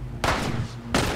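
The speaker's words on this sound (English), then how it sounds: "I keep seeing gunfire from up above." Gunfire in The Last of Us video game: two loud, sharp shots with short decays, the second about 0.7 seconds after the first, with no talk over them.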